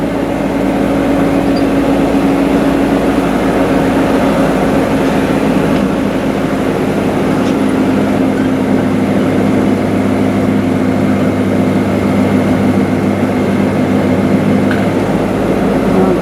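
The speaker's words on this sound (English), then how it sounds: "the revs, because of the idle, are high, 1500, so I'm slipping the clutch" A vehicle engine runs at a high, steady idle of about 1500 rpm while the clutch slips, a loud continuous drone with a low rumble and no speech.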